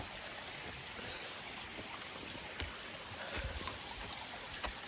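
Small mountain stream of water trickling across a backcountry trail on Fort Mountain, a steady close wash of flowing water with a few brief splashy bumps near the end.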